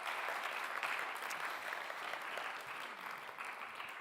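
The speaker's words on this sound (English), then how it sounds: "Give him a big round of applause" An audience gives a big round of applause as Alan is welcomed to the stage, dense steady clapping heard from a moderate distance, tapering slightly toward the end.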